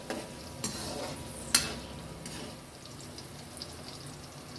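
Curry leaves fry in hot oil, a soft steady sizzle heard close with a few sharp scrapes and clinks of a spoon stirring in the pan, one louder knock early on.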